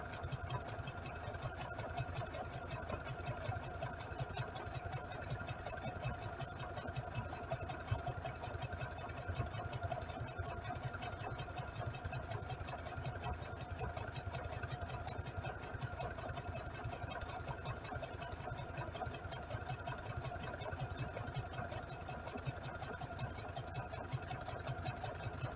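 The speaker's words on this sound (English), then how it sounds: "Just stitch this up." A sewing machine stitches a seam on a raglan nursing T-shirt, running in a steady, continuous mechanical whir for the whole stretch, with no talking.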